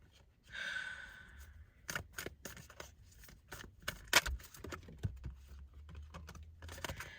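Tarot cards being shuffled by hand give a run of quick, crisp riffling clicks and papery flicks, up close and fairly quiet, with short pauses between bursts.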